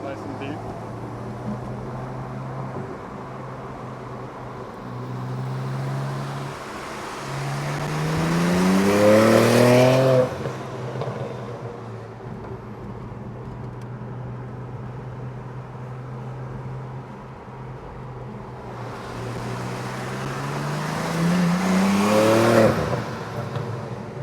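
BMW G80 engine with a deep exhaust, idling with a low steady burble and then revved twice, each rev rising in pitch and loudness before settling back, while people talk nearby.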